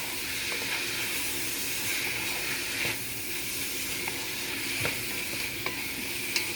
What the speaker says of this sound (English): Now you're gonna add your shrimp. We're gonna stir fry.